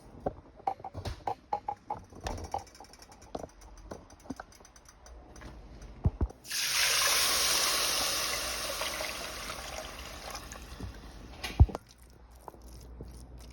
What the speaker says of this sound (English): And then I like to add my water at the last second.